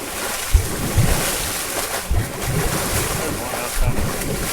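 Floodwater from massive flooding in Minnesota and Iowa gurgles and churns loudly and continuously, with fish being blown out of the flow. Gusts of wind buffet the microphone.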